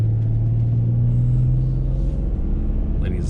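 A BMW E39 sedan pulls out and drives off, its engine giving a loud, steady low rumble close by that holds for several seconds before easing slightly.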